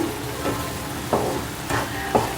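Ghee sizzles softly in a pan while wheat ada pradhaman is cooked, with a few distinct stirring scrapes spaced about half a second apart over a steady background hiss.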